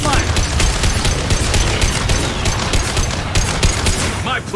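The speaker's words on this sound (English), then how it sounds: "Taking heavy fire!" Heavy gunfire in the video game Mass Effect, a dense, loud, continuous fusillade of rapid shots and impacts with voices partly mixed in.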